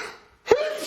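A man sneezes once, a sharp loud burst from cat allergies, following a quiet breathy lead-in and trailing off into a short voiced tail.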